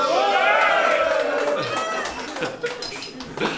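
Crowd cheering and shouting at a French rap battle, a loud, roaring mass of voices that swells at the start, then fades into scattered whoops and calls.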